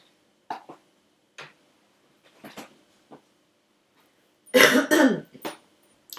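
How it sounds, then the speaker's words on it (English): Several short, scattered throat-clearing sounds and small coughs close by, with one louder, rougher clearing near the end amid quiet gaps. "I feel like I had to clear my throat"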